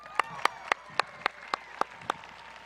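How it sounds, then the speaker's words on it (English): At a high school graduation ceremony, sharp claps ring out in an even, steady rhythm, about four per second. They are fairly faint and sound like only a few people clapping in time rather than a full crowd. "Let's just give that one another hand of applause."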